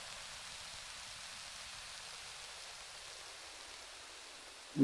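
The Modular Rain preset in Arturia Analog Lab V plays a soft, steady rain-like hiss, quiet and even, ending with a sudden click.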